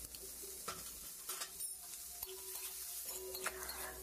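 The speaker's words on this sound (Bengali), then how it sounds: "নুন হলুদ দিয়ে আমি নাড়াচাড়া করে নিলাম" Hog plums tossed with salt and turmeric in a pan of tempered oil, giving a faint, steady sizzle with occasional light scrapes and clinks of the spatula, close by and quiet, with no voices.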